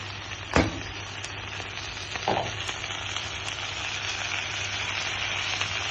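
A steady, even sizzle of chickpea greens frying in hot oil, with a couple of sharp utensil clinks near the start.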